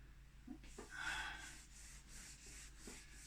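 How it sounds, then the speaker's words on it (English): A flat eraser face rubs across paper in a few soft, short scuffing strokes, quiet and close, with faint breathing between them. "I'm just using the flat surface of my eraser, my trusty eraser, not to erase"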